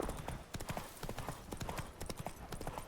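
Roach the horse's hooves clip-clop in quick, uneven beats in The Witcher 3, a close and clear run of hoofbeats with no talking.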